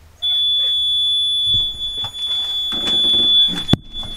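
A continuous high-pitched electronic beep from an electric mini truck sounds loudly and steadily for several seconds, with brief clunks and mechanical noises underneath before it cuts off.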